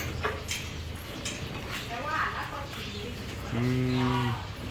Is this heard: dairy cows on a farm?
yes